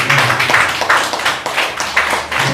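A church congregation claps in praise during a service, a roomful of hands in loose rhythmic bursts, fairly loud and close, with no talking over it.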